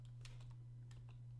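A few quick keystrokes are tapped on a computer keyboard, faint, close clicks in a short burst over a steady low electrical hum, with no voices.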